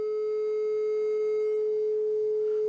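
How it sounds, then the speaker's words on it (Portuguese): A steady pure sine wave tone holds one unbroken pitch from start to finish with no harmonics, moderately loud and alone. "Ó, onda senoidal."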